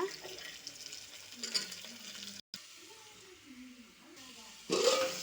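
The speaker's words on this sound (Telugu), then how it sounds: "ఇప్పుడు కాయగూరల ముక్కలన్నీ వేసుకోవాలి ఇవన్నీ కూడా దోరగా వేగాలన్నమాట" Vegetable pieces fry in a pan for coconut pulao, a soft, continuous sizzle with occasional stirring scrapes, under some quiet background voice.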